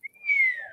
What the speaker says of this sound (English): I do a little whistle there